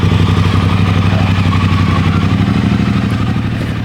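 A 2023 Triumph Bonneville Bobber 1200 motorcycle engine runs steadily at a low, even idle, a continuous smooth rumble close by with no voices.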